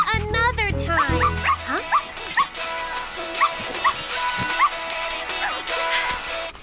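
A cartoon puppy yips and whimpers in a series of short high cries, near and fairly loud, spaced through a cafe kitchen scene with light background music and sounds.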